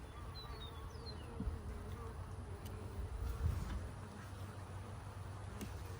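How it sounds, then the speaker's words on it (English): Honey bees buzzing around a hive, a faint, steady drone with occasional insects passing close, under a low background rumble. "See how these bees are fairly calm."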